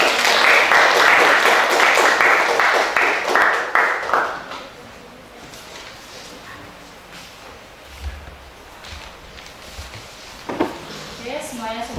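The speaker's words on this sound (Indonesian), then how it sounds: "Oke, beri tepuk tangan untuk kelompok semangat." A classroom of students claps for a presentation group, a loud burst of applause for about four seconds that quickly fades into quiet room sounds, shuffling and a few faint thumps.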